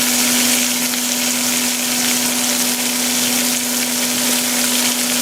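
Vegetables fry loudly in a hot pan, making a dense, unbroken sizzle with a steady low hum underneath, close up and with no voices.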